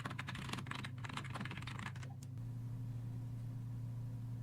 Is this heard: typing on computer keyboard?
yes